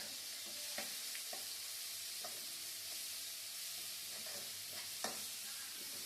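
Onion frying with ginger garlic paste in a pan for black chickpea sundal, a steady close sizzle with soft stirring scrapes and a few sharper clinks of the spoon, no talk.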